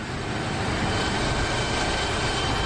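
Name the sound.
F-104 Starfighter jet in DCS flight sim video game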